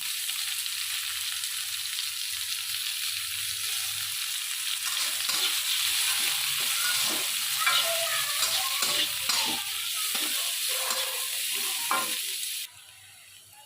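Chopped onion frying in hot oil with panch phoron, bay leaf, garam masala and green chilli for a potol-prawn curry: a continuous close sizzle with spatula stirring clicks in the middle, ending abruptly.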